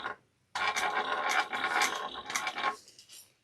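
A sewing machine back stitches over fabric in a short, steady mechanical whir with rapid ticking, starting abruptly after a brief pause and running for about two seconds before stopping.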